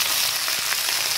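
Cauliflower pieces sizzle steadily in a frying pan as potatoes go in, with a continuous hiss and a few soft clacks of stirring close by.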